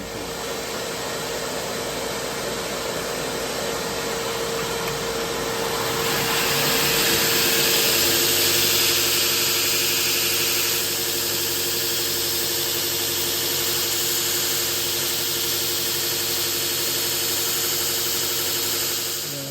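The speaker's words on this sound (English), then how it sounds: "I'm gonna turn the vacuum on, and then the machine, the 2x72." A shop vacuum and a 2x72 belt grinder run together in a knife-making workshop, producing a loud, steady broadband roar with a constant hum that swells slightly partway through and then holds.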